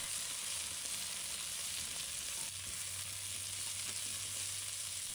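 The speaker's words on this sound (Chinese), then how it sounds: "将处理好的芥菜梗倒入锅中，开大火快速翻炒，让脆嫩的菜梗裹上油香" Mustard green stems tossed in hot oil over high heat give a steady, hissing sizzle throughout, fairly faint, with a low hum joining partway through and no voices.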